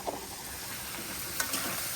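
Papaya pieces frying in a pan of cooked spice masala, a steady broadband sizzle with a couple of brief stirring scrapes, close and continuous with no talking.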